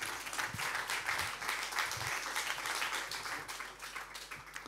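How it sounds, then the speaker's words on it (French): A conference audience applauds steadily for several seconds, dense overlapping clapping filling the room at an even, moderate level. "On vous applaudit également."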